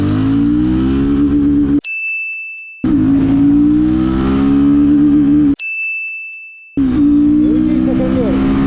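Royal Enfield 450 motorcycle accelerating in first gear, engine pitch climbing in two loud revving pulls, each cut by a gap with a bright electronic ding.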